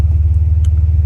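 A Jeep WJ engine idling at operating temperature in a garage, a steady, loud, close low rumble with an even pulsing throb.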